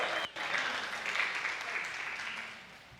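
A live audience claps steadily through the whole stretch, a dense and even wash of hand claps at moderate distance, with a brief dip near the start.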